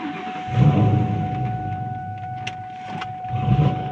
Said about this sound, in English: Now start the car and let it idle for a few minutes or until it runs out of fuel